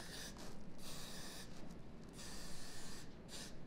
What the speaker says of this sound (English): I'm going to hairspray around the base of it and heat set that.